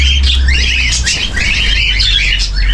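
Pet cockatiel and mynah birds chirp and tweet continuously at close range in a village house, bright overlapping calls with no talking.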